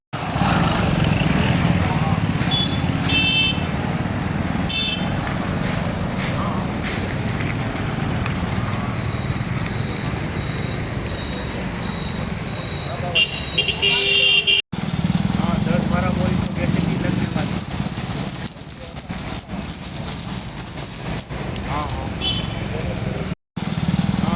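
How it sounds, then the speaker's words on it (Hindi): Tractor engines roar at a village tractor pulling competition, a loud, continuous rumble with brief cutoffs. Voices mix into the noise. "जीवाजीपुर गांव में ट्रैक्टर टोचन प्रतियोगिता"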